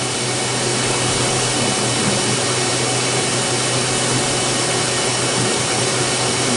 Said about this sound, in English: We're going to actually thread mill.